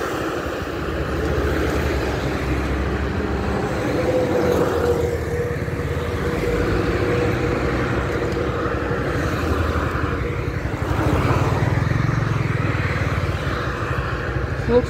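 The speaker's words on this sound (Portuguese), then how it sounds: "Deixa eu dar espaço para esse carro que vem aqui." A car passes on a busy highway, heard from a Honda Biz motorcycle riding alongside: steady engine and wind rumble throughout, with the passing vehicle swelling and fading over the road noise.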